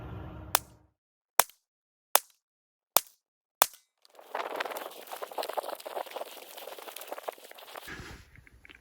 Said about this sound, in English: I did some shooting with the Federal Full Metal Jacket